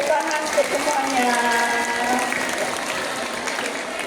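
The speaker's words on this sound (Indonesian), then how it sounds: "Tepuk tangan untuk semuanya." Applause at a school flag ceremony on Scout Day, a steady wash of clapping running the whole time beneath harmonic voices and ambient noise.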